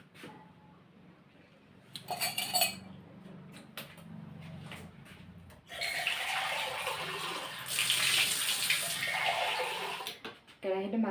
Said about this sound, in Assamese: কেৰাহীটো মাজি মেলি চাওঁ,